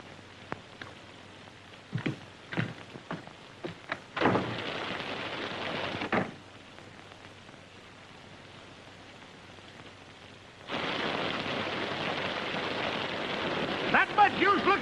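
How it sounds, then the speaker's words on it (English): A heavy rainstorm with thunder from a 1939 Western film, a steady hiss of rain broken by sharp crackling claps and a loud surge of downpour near the end, with brief talk mixed in. "Not much use looking for until this storm blows over."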